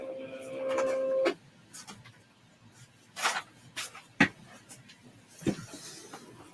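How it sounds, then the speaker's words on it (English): A Cricut cutting machine loading a Cricut cutting mat: a brief motor whir, then scattered clicks and soft mechanical knocks, quiet and alone. "We're going to load the mats in. Yes, I am using a Cricut mat. We'll hit load mat."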